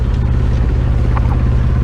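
Boat engine cruising at 2000 rpm at 7.2 knots on a falling tide, a loud, steady low drone with wind and water rush, close to the mic, with no voices.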